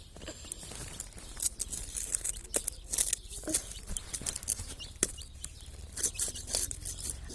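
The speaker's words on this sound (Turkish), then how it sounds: "Demek civcivleri besliyorsunuz." Chicks and hens clucking and pecking while being fed, a steady busy scatter of soft clucks, cheeps and scratchy pecks close by, with no talking.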